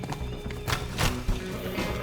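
Horse hooves clip-clopping in the video game Teardown, a few soft, close steps over a steady, dense game background, with no one talking.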